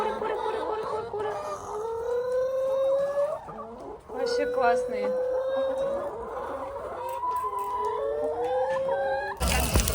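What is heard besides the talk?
chickens clucking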